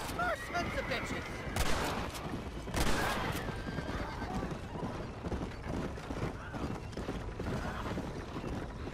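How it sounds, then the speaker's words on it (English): Gunfire crackles in a Red Dead Redemption shootout, a few sharp shots standing out around a horse's whinny and hoofbeats in a dense, busy game mix. "They're shooting right at me."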